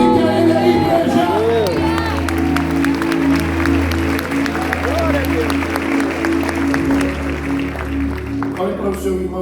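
A church congregation claps and cheers loudly over a steady musical backdrop, with crowd voices and shouting mixed into the continuous applause.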